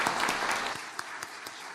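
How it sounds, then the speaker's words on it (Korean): A church congregation breaks into applause, a fairly faint, even patter of many hands with a few sharper claps standing out, lasting under two seconds. "하나님께 영광의 박수 한번 올려드리겠습니다."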